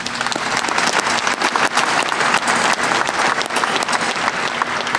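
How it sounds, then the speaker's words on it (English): Sustained applause from a big audience at a university commencement ceremony, loud and continuous, with dense overlapping claps filling the whole stretch. "Please give them a round of applause."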